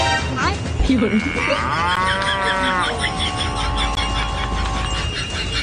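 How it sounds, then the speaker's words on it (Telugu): A buffalo moos loudly and close by in one long, drawn-out call that bends in pitch, with faint background noise and no clear talk. "బర్రేనా ఎక్కడుంది అగో వస్తుంది బర్రె"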